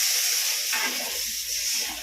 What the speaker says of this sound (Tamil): இந்த தண்ணி ஊற்றுறோம்.